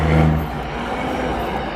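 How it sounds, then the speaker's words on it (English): New York City street traffic near Central Park gives a short burst of car engine rumble, loudest at first and then settling into a steady hum. "Do you want to drive in this traffic?"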